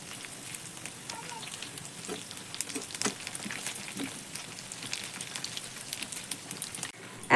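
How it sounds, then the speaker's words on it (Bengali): Wheat flour snacks deep-fry in oil over a medium gas flame, giving a steady crackling sizzle with scattered pops, fairly faint and without talk. "চারদিকে সমান করে ঘুরিয়ে ঘুরিয়ে একটু লাল লাল করে এই টিফিনগুলো ভেজে নিতে হবে"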